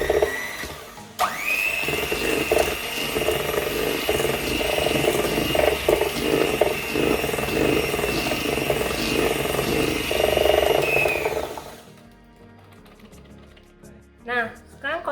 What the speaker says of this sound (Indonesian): kita kocok pakai mixer, tapi hanya sampai rata saja